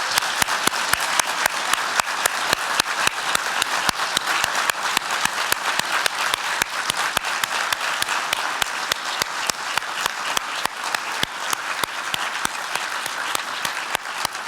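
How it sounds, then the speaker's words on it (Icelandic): A large audience at a hospital's annual meeting applauds honoured staff, a sustained, evenly loud round of clapping with crisp individual claps, with no talking over it. "Og nú skulum við klappa fyrir þeim öllum til hamingju innilega."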